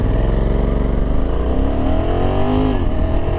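A 2021 Honda Africa Twin 1100 Adventure Sports ES DCT motorcycle accelerating hard from a stop on a hill, with a loud, close engine roar rising steadily in pitch through a gear change.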